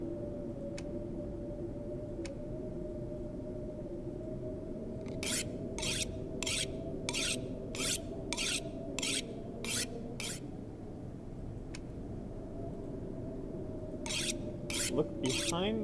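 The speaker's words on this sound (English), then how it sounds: "Sharpen up this hatchet." Blade scraped repeatedly along a hatchet and knife in the Alan Wake video game, a series of sharp rhythmic rasping strokes in two bursts over a steady low ambient drone.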